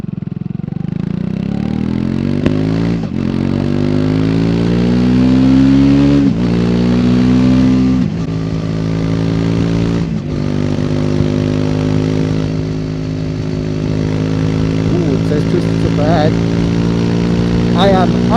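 A 2024 Triumph Speed 400 motorcycle on the road, its engine loud and close as it climbs through the revs, briefly dropping at each gear change before pulling up again, with the engine drone continuing to the end.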